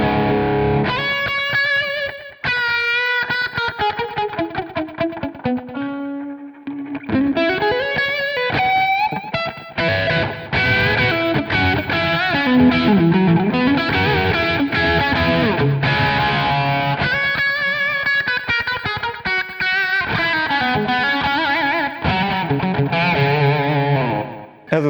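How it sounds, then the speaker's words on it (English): Electric guitar plays a crunchy, distorted tone modeled on a Soldano SL100 amp on crunch settings, run through a Valeton GP-5 modeling processor; loud chords and riffs ring with brief pauses between phrases, no talk. "And if I remember correctly, it was made on my Soldano SL100 with crunch settings."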